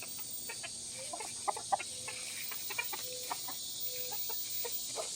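Hens cluck softly in a backyard garden, scattered bursts of calls under steady high-pitched insect buzz, fairly distant and quiet.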